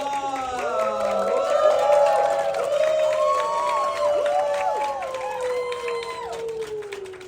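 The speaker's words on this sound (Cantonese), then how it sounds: "唔該，掌聲唔該" A crowd at a film promotion event cheers and whoops for the cast and crew on stage, with loud, overlapping voices and scattered clapping that stay steady throughout.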